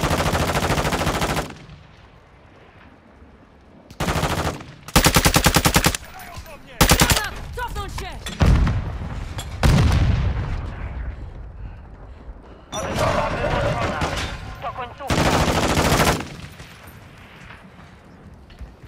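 Gunfire in Call of Duty: Modern Warfare II, with loud automatic bursts and sharp single shots in clustered volleys separated by quieter gaps, while players talk in between.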